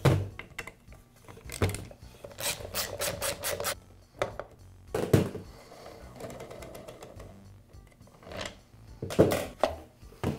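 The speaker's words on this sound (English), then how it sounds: "I'll begin by removing the magazine." The magazine comes off a power tool under repair, with close clicks, rubbing slides and a few dull thunks in irregular bursts and no talking.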